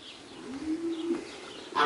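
A pigeon on a farm gives a single low, soft coo lasting under a second, fairly close in warm outdoor air, followed by a brief bright chirp.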